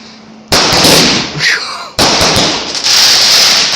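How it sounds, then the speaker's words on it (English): Bonfire night cake fireworks going off nearby, two sharp loud bursts followed by crackling and sizzling that trails off after each blast. "that was our fireworks show"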